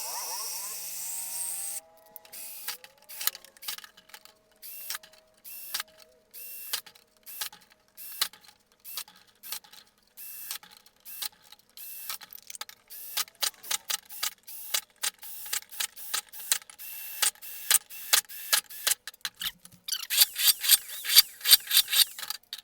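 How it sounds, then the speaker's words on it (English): Holes punched with an awl are drilled out one after another on a homemade wood gas stove, giving a long run of short, sharp grinding bursts that grow louder and quicker toward the end. "Now I'm gonna drill them out."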